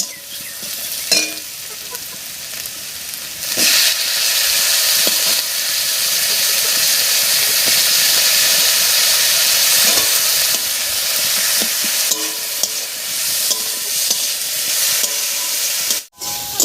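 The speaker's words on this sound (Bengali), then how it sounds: "পেঁয়াজের সঙ্গে মাছটাকে একটু ভাজা ভাজা মতো করে নিয়েছি" Dried fish (shutki) with onions frying in oil, a steady loud sizzle and hiss that runs nearly the whole time, with stirring scrapes and a brief drop near the end.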